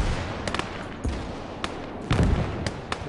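Artillery guns fire in the World War II Eastern Front battle game Call to Arms: Gates of Hell, several sharp booming shots at irregular intervals over rumbling battlefield background, with one heavier nearby blast.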